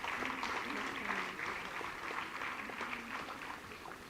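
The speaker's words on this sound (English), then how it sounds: "Please give a big round of applause to Shri Ganesh Kashid." An audience at a college foundation day celebration applauds in a steady, dense wash of clapping from a large crowd, faintly under a murmur of voices, holding even for the whole stretch.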